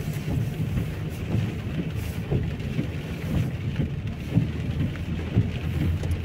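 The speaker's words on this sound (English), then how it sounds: "Rain in Luton." Heavy rain falls steadily outdoors in Lewsey Farm, Luton, UK, a dense, continuous hiss of drops on surfaces with low rumbling underneath, close and loud, with no voices.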